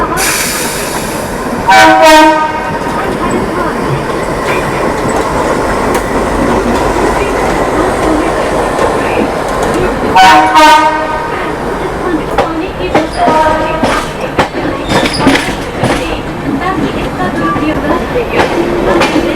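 Shatabdi Express train running from New Delhi to Dehradun, loud steady rumble and rattle of the carriages with a horn sounding twice and clickety-clack beats, heard from inside the train.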